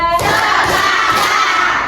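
A classroom of students clapping along in an ice-breaking counting game, a dense burst of many hands close by that fills the whole moment with crowd noise.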